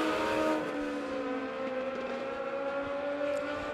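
B-Mod and Midwest Mod race cars on the oval at Monett Motor Speedway during heat races, a steady distant engine drone with drifting pitch as cars run the stretches, no voices over it.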